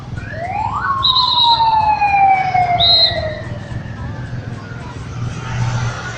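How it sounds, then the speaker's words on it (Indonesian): A police car siren wails as it passes along the final stage route of the Tour de Singkarak cycling race, its rising and sweeping tones moderately loud over steady road and crowd noise, with motorbikes following behind. "Baru lewat polisi"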